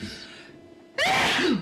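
A single loud, close human sneeze bursts out after a quiet, faint intake of breath, sharp at onset and trailing off quickly.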